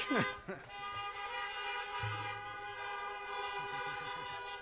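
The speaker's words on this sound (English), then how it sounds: "today we're honking, so we apologize for that too" A vehicle horn sounds with a sustained, blaring tone, preceded by a brief louder burst; people talk faintly underneath, at a high school event.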